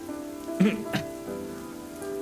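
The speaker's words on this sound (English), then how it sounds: "It was the sound of rain falling hitting the umbrella." Rain patters onto an umbrella in a school-life video game set in a dinosaur town, a soft steady shower with a couple of louder taps near the start, over a quiet tonal background.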